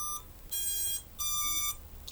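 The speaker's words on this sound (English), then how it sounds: "So when you flip a switch, it'll beep, the motors will beep, and the buzzer will beep." A Vifly 2 lost-model buzzer fitted to an FPV quad sounds loud, piercing electronic beeps in a repeating on-off pattern, about three half-second tones separated by brief gaps, heard alone with no talking.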